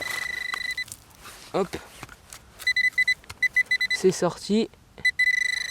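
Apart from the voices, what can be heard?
metal detector beeping over a find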